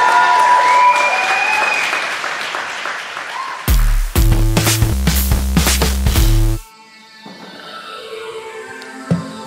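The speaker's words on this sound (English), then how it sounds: "a massive, massive clap off for JB Barrington." Theatre audience at York Theatre Royal applauds loudly, with whoops over the clapping, then a bold burst of music with a deep bass beat cuts in before the clapping fades into a quieter, tonal background.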